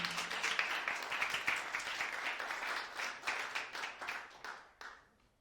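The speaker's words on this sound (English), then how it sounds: "Round of applause, guys, from Mihaki." An audience at a panel event on African innovation, media and technology applauds, with crisp individual claps audible in a moderately sized crowd, rhythmic and fairly close, thinning out into a few last scattered claps.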